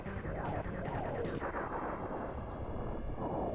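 Rumbling explosions in the 1993 Star Fox video game roll out in overlapping bursts over a dense, continuous game soundtrack, fairly quiet overall.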